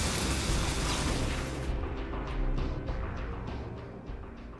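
A grenade blast in the sci-fi shooter DUST 514 gives a loud, broad boom that rumbles on, then tails into a few scattered crackles and smaller bursts over several seconds.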